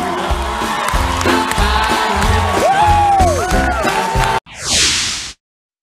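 A studio audience at The Late Show with Stephen Colbert roars and cheers continuously as Congressman John Lewis crowd surfs, a dense wall of whoops and applause that ends with a sharp whoosh.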